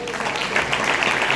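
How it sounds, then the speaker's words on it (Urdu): A church congregation applauding at a worship gathering, a steady wash of many hands clapping at moderate volume, with a faint murmur of voices mixed in. "ان کے لیے بھی تالیاں بجائیں"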